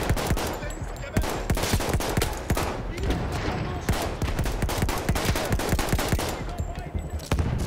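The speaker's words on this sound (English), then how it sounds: "But I can still put shots on people, and I do like this gun quite a bit." Rapid bursts of gunfire from a Battlefield 1 World War I campaign battle, dense cracks and thumps firing almost continuously at close range, with a voice faintly under the shooting.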